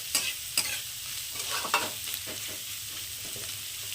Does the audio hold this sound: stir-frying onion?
yes